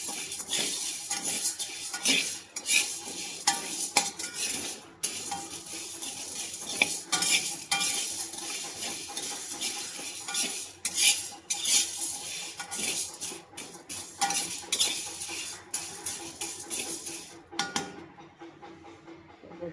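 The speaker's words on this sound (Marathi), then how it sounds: "दोन ते तीन मिनटं असं वेगळी खरपूस आपण भाजून घ्यावी" Sabudana dry roasting in a pan while being stirred, busy rattling scrapes and clinks of a metal spoon against the pan with a light sizzle, close and continuous until it stops near the end.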